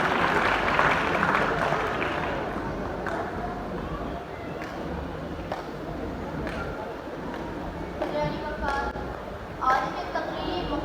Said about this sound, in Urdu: فاطمہ خان، آپ سب کی بھرپور تالیوں میں فاطمہ خان۔